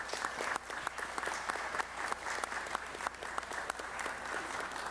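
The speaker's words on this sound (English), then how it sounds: "Let's give Governor Kim a round of applause." Steady applause from the audience at a city council meeting, sustained and fairly distant, with a dense wash of clapping and no talk over it.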